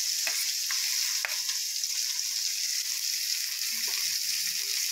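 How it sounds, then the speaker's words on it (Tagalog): Squid frying in a pan for a squid and chayote dish, a steady close sizzle and hiss that runs continuously with faint stirring clicks underneath. "magluto og nukos na"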